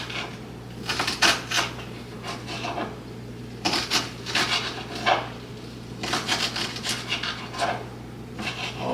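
A knife chops green onions (scallions) on a cutting board for shrimp fried rice. Clusters of quick, sharp taps come in three bursts over a low, steady hum.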